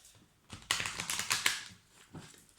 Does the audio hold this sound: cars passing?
no